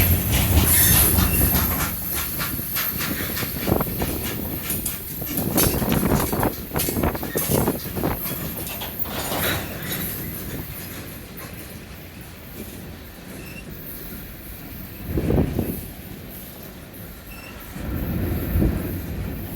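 A CSX freight train rolling by with rumbling wagons, rhythmic wheel clatter and occasional squeals, loud near the start and easing off, then swelling again briefly near the end.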